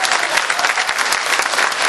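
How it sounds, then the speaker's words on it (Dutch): An audience at a Flemish and Dutch artists' gala in the Ahoy arena in Rotterdam claps together, dense sustained applause filling a large hall, loud and close. "Geef nog even een applaus"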